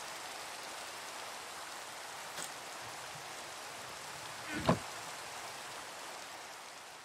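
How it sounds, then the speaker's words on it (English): Steady rain falling in a Minecraft modpack sky-block world, a soft continuous hiss throughout with a brief louder thud near the end; no talking. "And there goes the rain."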